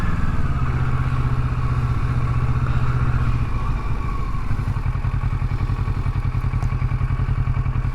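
A motorcycle rides along trails through a residential subdivision in Schertz, Texas, its engine a steady loud throbbing rumble close to the microphone, with rattles and thumps from the rough ground and no talking.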